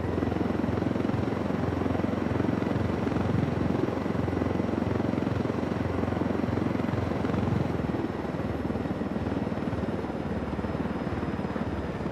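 A helicopter flies in the video game Ghost Recon Wildlands, its rotor and engine making a steady, loud, close drone that holds for the whole stretch without a break.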